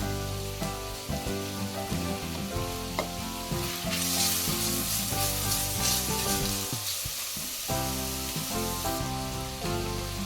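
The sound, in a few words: onions and tomatoes sautéing in a pot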